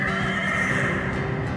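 Horses neighing as an audio drama sound effect for a ghostly stampede across a stormy night sky, a loud sustained whinny over a dense rumbling wash of wind and storm.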